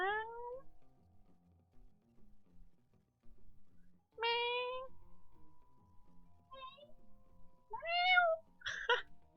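A cat meows several times with pauses between, some calls short and chirpy, others drawn out, over quiet background noise and faint murmuring.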